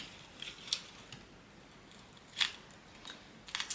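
Scissors trim a piece of material for a DIY Valentine's heart wreath, making three short, crisp snips spaced a second or more apart, close and fairly quiet with no voices.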